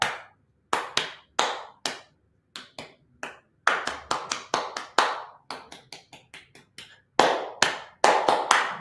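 Bursts of sharp hand claps in rhythmic patterns, groups of quick claps separated by short silences, close and crisp.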